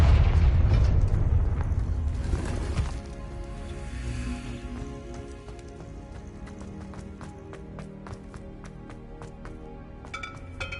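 Confringo spell explosion in Hogwarts Legacy: a loud booming blast opens, then a rumbling decay fades over several seconds, followed by light ticking and clicking sounds against a faint musical hum.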